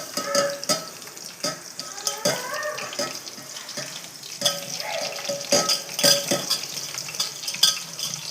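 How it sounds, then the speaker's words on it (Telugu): Food lightly frying in a pan, soft sizzling under repeated stirring and scraping of a utensil, with irregular clinks throughout. "లైట్ ఫ్రైకి ఎలా ఫ్రై వస్తుందో అలా లైట్గా వేపుకోవడం"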